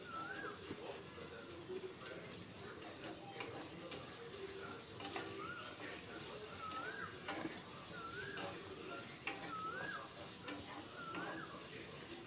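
Onions frying in a pan for a Telugu chamagadda (taro root) pulusu, a soft continuous sizzle with occasional stirring scrapes, quiet and close, while a faint repeating chirp sounds in the background.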